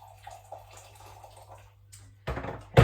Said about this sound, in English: So I might just pop a tiny bit more water in there